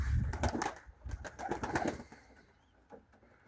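Turkish Takla pigeons: flapping wings and fluttering bursts dominate the first half, fading into quieter sounds that could be pigeons cooing.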